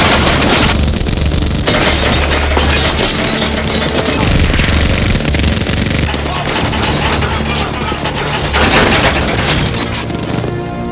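Machine gun fire tearing into police cars in a Terminator film scene, a long, loud, dense barrage of rapid shots mixed with shattering glass and crashing metal that continues for about ten seconds.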